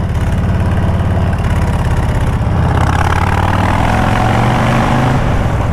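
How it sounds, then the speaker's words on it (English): Harley-Davidson Low Rider ST motorcycle exhaust echoing through a tunnel, a loud, deep, steady rumble that thickens and grows heavier partway through as the engine pulls. "That exhaust going through that tunnel, oh yeah, that is loud and fun."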